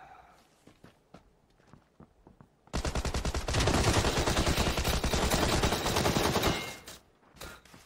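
Rapid automatic gunfire from the video game PUBG on Xbox One erupts after a few faint shots and footsteps, a loud dense burst of repeated shots lasting about four seconds before cutting off.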